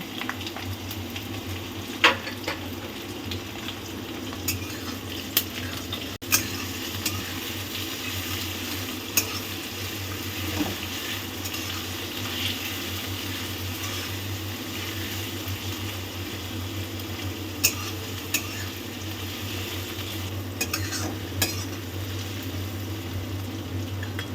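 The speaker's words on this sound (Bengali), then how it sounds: "এবার তেল গরম হয়ে গেছে, এবার পেঁয়াজগুলো দিয়ে দেব। পেঁয়াজগুলো লাল লাল করে ভেজে নেব।" Onions sizzle steadily in hot oil, a constant crackling fry with occasional sharp pops and stirring clinks throughout.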